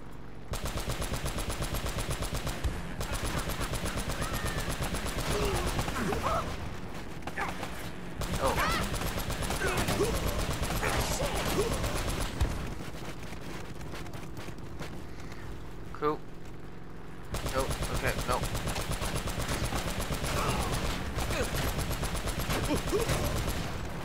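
Gunfire in the video game Uncharted: Drake's Fortune, near-continuous rapid automatic bursts with brief lulls, heard under people talking.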